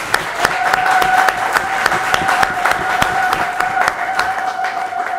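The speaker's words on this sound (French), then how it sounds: "que je demande d'applaudir très fort." Sustained applause from an audience at a political party conclave in Brussels, dense steady clapping with scattered sharper claps over a continuous crowd wash, loud and close throughout, with a faint tone lingering beneath.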